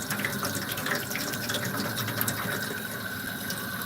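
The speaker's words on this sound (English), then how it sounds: "Hot water on tap." Hot water at 62 degrees Celsius gushes steadily from a tap at a campsite setup with a 200-litre supply, a continuous close splashing hiss with no talking.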